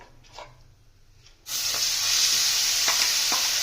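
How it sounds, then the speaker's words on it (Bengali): Onion paste hits hot oil with a sudden loud burst of sizzling after a quiet start, then a steady intense hiss with a few stirring scrapes. "আমরা তেলের মধ্যে পেঁয়াজ বাটাটা দিয়ে দেবো।"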